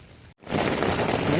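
After a brief silent gap, a dense, steady hiss of heavy rain drums on a tent overhead at Sonamarg, Kashmir, loud and continuous.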